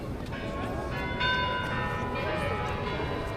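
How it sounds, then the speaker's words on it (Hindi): Church bells ring out in a continuous wash of overlapping tones, heard from some distance over street noise in light rain near Red Square, Moscow. "तो भाई घंटियाँ बज गई, चर्च चल रही है भाई चर्च में।"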